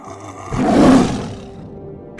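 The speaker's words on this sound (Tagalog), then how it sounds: "Tigre?" A tiger gives a deep, swelling roar in an animated show, loud and rising to a peak before fading away, with no talk over it.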